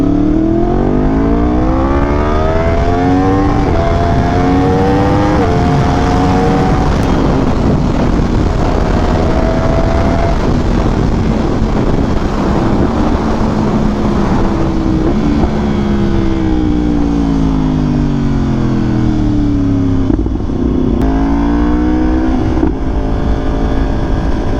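A Yamaha R1M sport motorcycle engine revs up and down repeatedly, loud and close, its pitch sweeping higher and lower over a steady roar.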